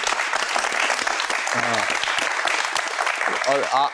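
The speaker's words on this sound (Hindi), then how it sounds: "बिल्कुल अली सिकंदर के लिए तालियां" Audience applause on a talk show set, dense clapping running throughout, with voices cheering and talking over it near the middle and end.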